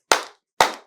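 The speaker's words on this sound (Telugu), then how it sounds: "క్లాపింగ్ అని ఒక టెక్నిక్ ఉంది" Two sharp hand claps ring out about half a second apart, each crisp and close with a short decaying tail, alone in silence.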